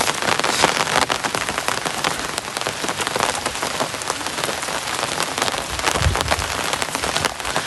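Heavy rain pours steadily on a mountain hiking trail, a dense, continuous hiss of drops hitting close by, loud and unbroken with no voices.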